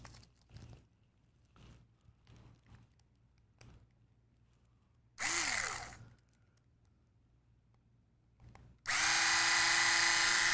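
A power screwdriver whirs in two short bursts, the second longer and louder, while removing screws from an RC car axle housing, with quiet handling clicks and taps in between.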